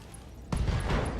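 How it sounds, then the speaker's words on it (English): Gunfire and ammunition explosions erupt in the BattleTech mech video game, a sudden loud burst after near quiet, then a sustained rumbling, crackling roar of blasts close by. "ammo explosions"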